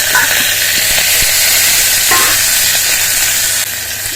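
Onions browned in a pan with kasuri methi, curry leaves and tomato pieces sizzle loudly and steadily while being stirred, with a constant frying hiss throughout and no talking.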